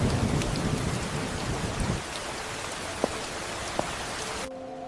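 Steady rain pours across the whole stretch, heavy and close at first, then slightly softer, with two sharp cracks like distant thunder or drips standing out near the end before a faint hum remains.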